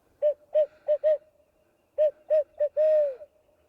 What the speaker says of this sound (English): the owls hooting